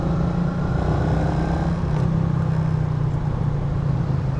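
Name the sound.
115cc motorcycle engine running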